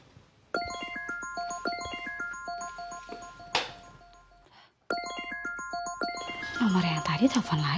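A mobile phone ringtone plays a bright repeating melodic tune at moderate volume, breaks off briefly, then starts again while rustling noise builds beneath it.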